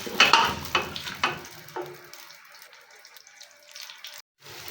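Onions frying in a pan until light brown, with soft sizzling and stirring clatter that rises in brief bursts near the start and then settles into a quieter, steady crackle.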